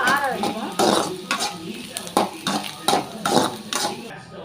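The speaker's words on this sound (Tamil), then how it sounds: "பூண்டு இப்போ எண்ணெய் சட்டிலேருந்து கொட்டி வச்சுட்டேன்" Fried garlic tipped out of an oil pan, giving a run of clattering metal scrapes and stirring knocks against a pan, close and fairly loud, with bursts of sizzle between the hits.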